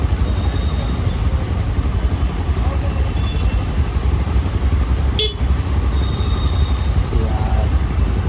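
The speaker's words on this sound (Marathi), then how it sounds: "इथे हर टाइम ट्रॅफिक असतं" Busy road traffic with car horns beside a city footpath: a constant roar of passing vehicles, with short horn toots poking through now and then, heard up close.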